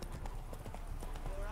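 Clip-clop of Roach's hooves, the horse in The Witcher 3: Hearts of Stone, trotting in a steady rhythm over continuous background noise, with voices speaking on top.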